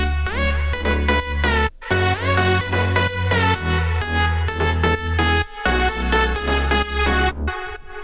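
A loud electronic drop in which layered, bright synth leads play a choppy melodic sequence over a pulsing, heavy bass line. Two brief dropouts break the pattern, and no one speaks.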